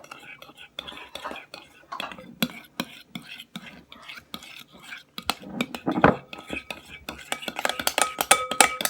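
Slime being stirred with a spoon by fourth graders, with close wet squelching and clinking of the spoon against a container, growing busier toward the end, while children whisper and talk over it.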